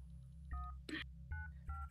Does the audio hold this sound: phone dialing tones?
yes